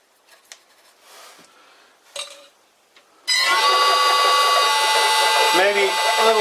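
A metal lathe drives a 10mm drill bit into a workpiece. Soft handling clatter comes first, then a loud, steady, ringing screech of cutting starts suddenly and keeps going to the end.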